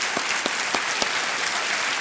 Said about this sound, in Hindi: तालियों के साथ आपका हम स्वागत करते हैं।